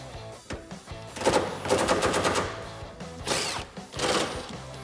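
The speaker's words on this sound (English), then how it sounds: "So I'm going to take that 10mm socket, take those out." A rapid ratcheting rattle comes in several short bursts, close and fairly loud, as a 10mm socket backs out tail light bolts on a 2016-2021 Toyota Tacoma.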